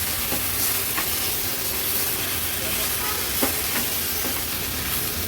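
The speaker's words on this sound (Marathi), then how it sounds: "आता मसाल्यात व्यवस्थित आपण हे मटण असं परतून घेऊया" Mutton pieces sautéing in masala in a pan for winter mutton paya soup, a steady broad sizzle and hiss with a few faint stirring clicks, close and continuous with no talk.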